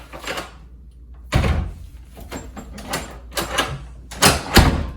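A heavy hotel room door opens with a solid thunk of the latch and handle, followed by several more knocks and clunks as it swings and settles, close and fairly loud with no talking.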